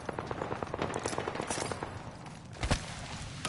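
Rapid gunfire in a season 6 Apex Legends firefight, a dense stream of sharp repeated shots at steady loudness, with one heavier blast near the end.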